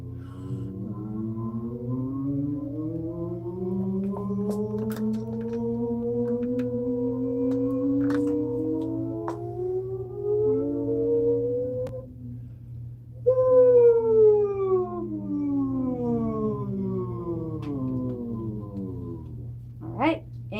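A group of singers in a vocal technique class slide their voices up and down, imitating a siren. The overlapping gliding tones rise and fall continuously for about twenty seconds over a steady low hum.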